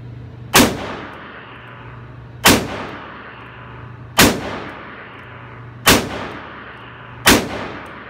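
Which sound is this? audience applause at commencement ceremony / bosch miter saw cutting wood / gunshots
gunshots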